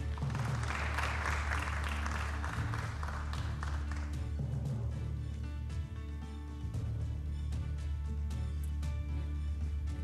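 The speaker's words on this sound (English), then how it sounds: "You can give them a round of applause." An audience at a Nairobi gubernatorial debate claps for a candidate walking to the stage. The applause is strongest early and fades after a few seconds, leaving a sustained tonal hum with scattered clicks.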